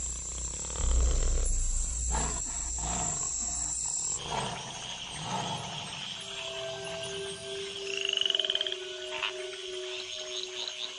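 A chorus of tree frogs calls together after rains in the wild, layered with steady tonal whistles and a deep rumbling roar-like call, the mix of animal voices continuing throughout with no talk.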